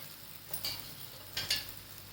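Wheat-flour and egg paratha on a hot pan, faint background with two brief clusters of spatula scrapes and taps as it is turned, no voices.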